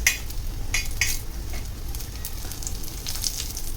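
Dried bitter gourd slices fry in hot oil, a steady close sizzle with bright crackling bursts and occasional spatter pops over several seconds.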